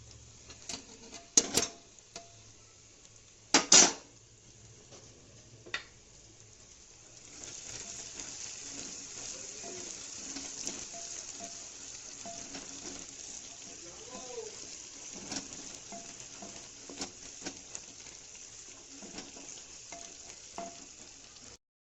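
Chopped green chillies drop into a pan of mutton curry and set off a steady, fairly quiet sizzle that keeps going, with a few sharp clatters of utensils before it.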